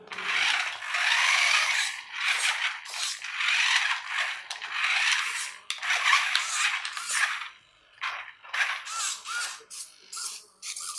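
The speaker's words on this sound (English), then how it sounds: "send a control signal to the motor driver to control the DC motors and servo motors using PWM signals" Petbot robot's DC motors and servo, steered by joystick, whir and grind in short bursts of varying length, with brief pauses between moves; a close, fairly loud mechanical whine with no talking.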